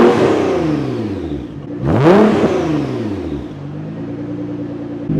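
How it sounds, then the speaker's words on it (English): A Nissan GT-R engine with aftermarket midpipes revs up sharply to a loud peak around 4000 rpm, heard from the rear, then winds back down, its rumbling tone sweeping up and falling away, close by with no talking. "So I'll rev it up to 4K and then we'll get what that sounds like"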